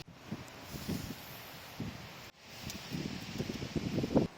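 Strong, cold wind gusts outdoors beside a stormy sea, buffeting the microphone in rough rumbling surges with a brief dropout midway and no voices.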